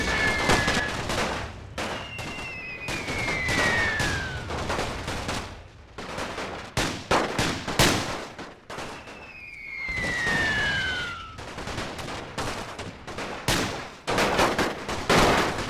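Rapid rifle and machine-gun fire crackles from troops in a forest in a WW1 Great War total war battle, dense overlapping shots with whistling tones sweeping through.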